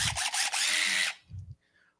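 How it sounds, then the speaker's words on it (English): Cordless power drill whirring in one loud sustained burst of about a second, followed by a shorter, quieter low spin-up; no talking. "I have a drill."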